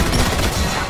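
A continuous, loud, close barrage of gunshots from the action game R.I.P.D.: The Game, dense and unbroken for about a second.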